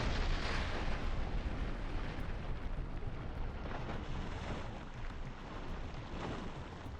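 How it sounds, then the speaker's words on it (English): A massive, rumbling blast as a munitions-carrying drone destroys a boat, filling the clip with dense, roaring low-end noise that stays loud throughout and slowly tapers, with wind buffeting the microphone. "A munitions-carrying drone destroyed a Ukrainian boat with a massive explosion"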